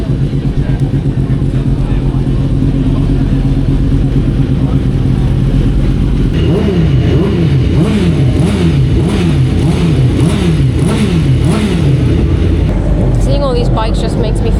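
Motorbike engines with twin exhausts rev repeatedly in rising and falling surges over a loud, constant rumble at a BSB race meeting at Thruxton. Voices talk underneath throughout.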